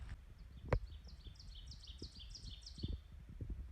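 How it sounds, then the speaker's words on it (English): An ovenbird sings in the forest, a rapid series of repeated bright chirping notes building in a run, somewhat distant, over faint rustling and low thumps. "That is an ovenbird."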